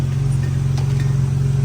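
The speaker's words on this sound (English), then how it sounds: "The car's on right now because I'm trying to see if there's any exhaust leaks." A BMW S58 engine idles steadily with a low, even hum, running alone at a constant level throughout.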